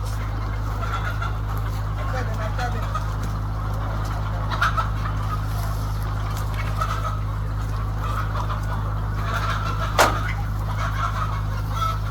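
Free-range chickens roaming an open area cluck softly in the distance over a steady low hum, with a brief sharp knock near the end.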